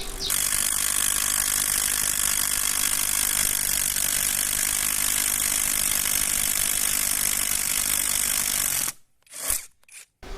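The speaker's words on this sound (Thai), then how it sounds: "ไอตัวนี้เนี่ยมันจะมีการกระแทกหมุนแบบกระแทกกระแทกมันไป" A loud, continuous rattling mechanical grind of a PUMPKIN 16V cordless impact drill, hammering while rotating, runs steadily for about nine seconds, then cuts off, followed by a few brief clunks.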